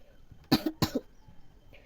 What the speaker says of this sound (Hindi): मेरा पूरा खांसी सर्दी शुरू हो गया, इसलिए बार बार खांसना पड़ रहा है